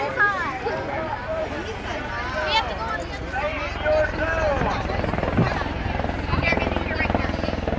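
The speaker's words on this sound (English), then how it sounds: "there's the helicopter making another pass" A helicopter makes a low pass over a crowd gathered for an Easter egg drop of 10,000 eggs, its steady rotor thrum running throughout beneath lively chatter and voices.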